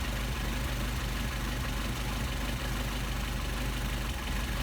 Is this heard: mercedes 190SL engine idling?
yes